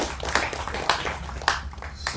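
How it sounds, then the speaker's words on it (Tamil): Scattered rhythmic hand clapping from an audience at a Tamil film's music launch ceremony. Sharp claps come roughly every half second over a low hall murmur, without any cheering. "அவருக்கு ஒரு கைத்தட்டு பண்ணி பாராட்டு வச்சுக்கலாம்"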